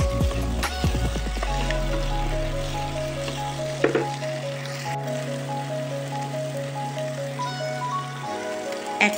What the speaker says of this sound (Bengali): এরপর দিয়ে দেবো 3টে কুচিয়ে রাখা টমেটো, এটাও কিন্তু ভালো করে ভেজে নেব